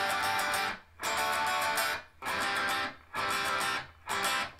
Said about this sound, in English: So all together, it sounds like this.